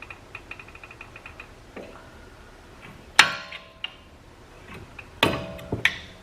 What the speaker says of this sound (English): I'm just going to take a flathead screwdriver and try to pry a little bit to get some movement